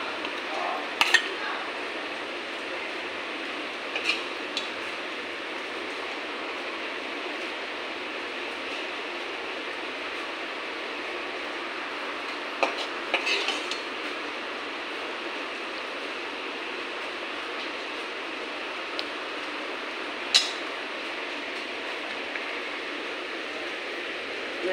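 Malaya fish curry is served with a few sparse clinks of dishes and utensils, small sharp taps scattered over a steady background hiss.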